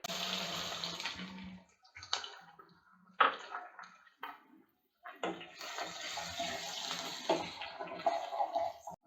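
Chopped onions hit a hot pan of oil with green chilies and curry leaves for keema upma, giving hissing bursts of sizzle separated by short pauses, then a longer, steadier sizzle.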